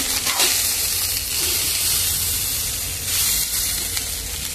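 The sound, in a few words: fried rice sizzling while being stir-fried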